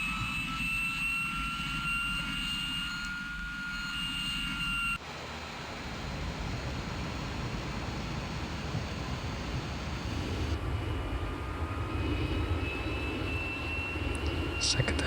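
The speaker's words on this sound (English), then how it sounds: "So now we need to wait till the engines are fully started again." Jet engines of a McDonnell F2H-2 Banshee spool up in a Flight Simulator 2020 cockpit, a steady roaring whine with high tonal hums that shifts abruptly twice as the start sequence changes, under light voice.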